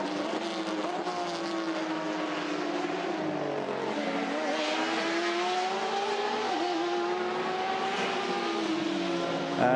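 Endurance race cars at the 24 Hours of Le Mans give a continuous, loud engine drone, with layered whining tones rising and falling as the cars drive past at speed.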